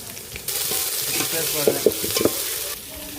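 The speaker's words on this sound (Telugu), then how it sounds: "టమాటాల సన్న తరిగినాయి టమాటాలు వేసేసుకుందాం" Finely chopped tomatoes drop into a hot pan and fry with a loud, broad sizzle, accompanied by a few sharp knocks and clatters of stirring.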